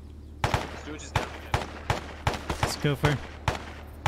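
Sharp gunshots crack in Arma, about a dozen loud reports at an uneven rhythm, with a voice speaking briefly between the shots.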